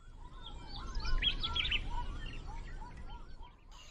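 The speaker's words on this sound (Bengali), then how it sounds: "মূর্তি নদীর ওপর থেকে ওই পাখিগুলো উড়ে যাচ্ছে" Small birds calling and chirping over the Murti river in the Dooars near Gorumara National Park at dawn, a cluster of bright tweets at moderate distance over a steady rush of flowing water.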